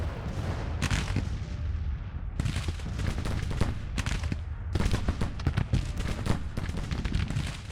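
Continuous artillery barrages in the Civil War strategy game Grand Tactician, with booming cannon shots layered over crackling distant musket volleys, a dense rolling battlefield din that briefly thins and then swells again.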